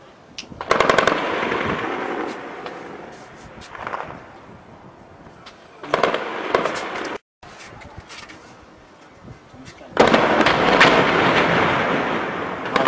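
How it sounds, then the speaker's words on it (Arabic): Artillery shelling in the Deir Baalba district of Homs in 2011 comes as repeated loud bursts of blasts and rattling fire, with quieter gaps between them and a final sustained roar. "ما زال القصف مستمرا"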